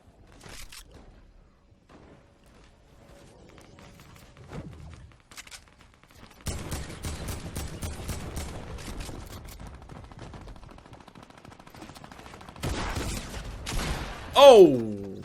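Pump shotgun blasts in a Fortnite Battle Royale fight, with scattered sharp shots early, then a dense stretch of rapid gunfire and a loud final burst near the end.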